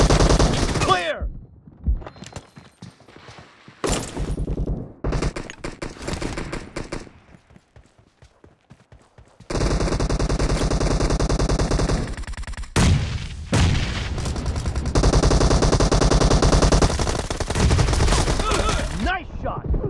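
Rapid gunfire from a video game team deathmatch crackles in loud bursts and sustained automatic volleys, with a quieter stretch of sparse shots midway before heavy continuous firing resumes; no speech.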